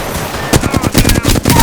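Rapid automatic gunfire in the shooter Apex Legends, a loud close burst of evenly spaced shots over about a second, following a brief moment of ambient noise.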